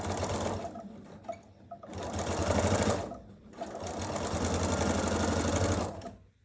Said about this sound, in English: I just opened up the package and could just start sewing right away.